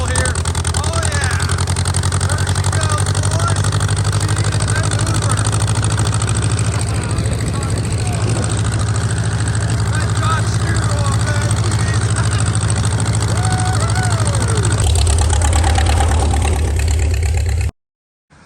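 An antique farm tractor engine runs steadily while being driven, a loud, continuous low chugging drone with a shift in pitch near the end, and a person speaks over it.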